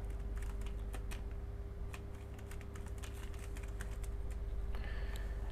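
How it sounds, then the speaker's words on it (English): Typing credentials on a computer keyboard while setting up network access to a USB drive on an OpenWRT router: a steady run of light, quick key clicks over a constant low hum, with no talk. "let me go ahead and type that in"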